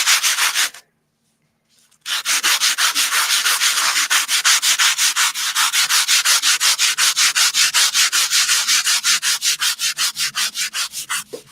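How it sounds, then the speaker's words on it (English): Rhythmic, rasping strokes of a sanding block across a surface, close and loud, repeating steadily after a brief pause near the start. "let it all dry and then just take a sanding block"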